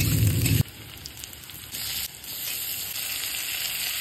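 Small-cut onions and potato fry in oil, opening with a brief loud burst as they hit the pan, then settling into a steady, close sizzle and crackle with occasional stirring.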